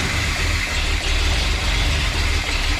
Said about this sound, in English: Now let's crank on her and see what happens.